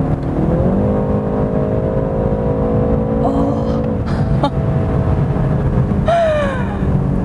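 A BMW 3 Series engine drones steadily, then blips and revs with quick rising and falling pitch sweeps as it downshifts, loud and close throughout.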